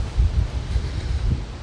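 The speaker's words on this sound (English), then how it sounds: "super windy out. Got about 20, 30 mile per hour south wind blowing" Strong 20 to 30 mph south wind buffets the microphone outdoors on a sunny day, a loud low rumbling roar with gusty surges and no voices.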